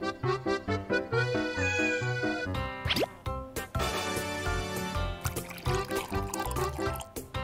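Cartoon accordion cat meowing in a playful tone over busy, bouncy background music, with a brief sliding squeal in the middle; the meows are mixed under the score and fairly loud.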